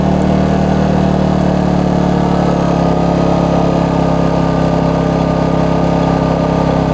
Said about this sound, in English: you hear that? Kicked on eco mode. Now it quieted down the motor.